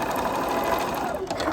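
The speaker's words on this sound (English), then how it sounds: "So let's sew this one on." A sewing machine runs steadily, stitching a quilt block in one short, close burst of continuous motor whirr.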